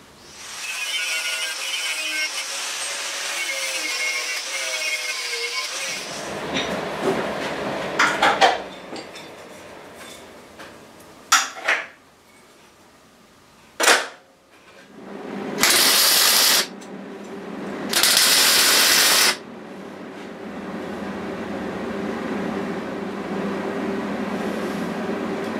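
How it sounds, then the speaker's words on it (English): Welding of a steel seat unit frame on a custom fighter motorcycle build in a garage workshop: a steady crackling hiss, then metal clanks and knocks, followed by two loud sustained welding bursts. "just weld it up"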